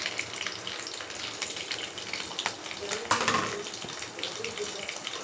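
Green chillies dropped into hot oil with mustard seeds and cumin for a jackfruit seed curry, giving a crackling sizzle with sharp spits and a brief louder burst midway, fairly quiet and close.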